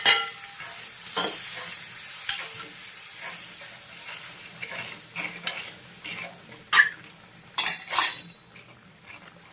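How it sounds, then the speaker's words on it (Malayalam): A spoon stirs chili and turmeric powders into a fish curry of about a kilo of fish in a hot pan, giving intermittent scrapes and metallic clinks over a soft frying sizzle, with no talk. "അത് ശകലം നേരെ ഇങ്ങനെ ഇളക്കുമ്പോൾ ആ പൊടികൾ ഇതിനകത്തൊന്ന് മൂക്കുമ്പോൾ ഒരു പ്രത്യേക രുചിക്ക് വേണ്ടിയാണ് ഇതിങ്ങനെ ചെയ്യുന്നത്."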